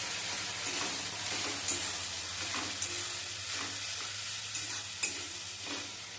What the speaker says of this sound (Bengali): জিরা বাটা আর আদা বাটা দিয়ে মশলাটা ভালোভাবে কিছুক্ষণ কষাবো।